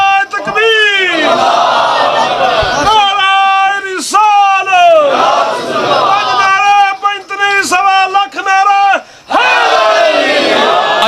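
A large crowd at a religious gathering chants the takbir, "Allahu Akbar", in loud, close, repeated unison calls answering a leader, each roaring phrase separated by brief gaps.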